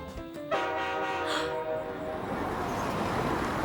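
A cartoon train sounds its horn, a sustained harmonic blast that swells in loudly after a brief lead-in and holds over rumbling rail noise to the end.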